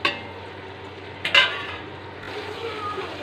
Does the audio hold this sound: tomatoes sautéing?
yes